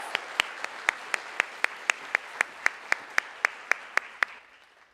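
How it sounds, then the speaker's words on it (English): Audience applause at a high school honors night for magna cum laude students, heard as a sparse, steady series of about sixteen sharp single claps at even intervals over faint room hiss, trailing off at the end. "Let's get one final round of applause for the magna cum laude students."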